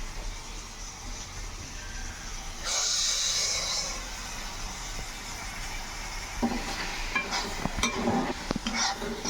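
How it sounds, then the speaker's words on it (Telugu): Cashew paneer curry frying in a pan on a gas stove, a steady close sizzle with a brief louder hissing burst early on, followed later by scraping and clinking of a utensil stirring against the pan. "ఇప్పుడు అయితే వేగుతుంది బాగా"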